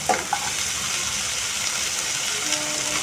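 Cauliflower drops into a hot pan for a cauliflower and potato sabzi and sets off a loud, bright sizzle. Two quick clatters come first, then a steady close frying hiss.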